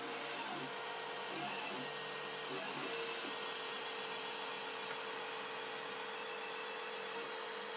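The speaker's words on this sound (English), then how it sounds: "So you can see this printer is working." A 3D printer printing ABS plastic, glued down with purple school glue sticks, hums steadily at close range with faint whining stepper-motor tones and a brief shift partway through, with no talking.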